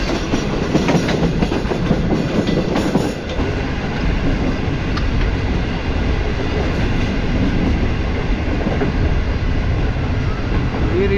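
Green Line Express train running through a junction railway station, a steady loud rumble with clickety-clack of wheels on rails throughout, heard from on board.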